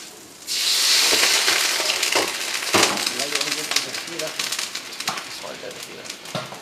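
Garlic and vegetables hit hot oil with a sudden loud sizzle that holds steady and slowly softens, with spatula clinks and scrapes and some voices in a busy cafe kitchen.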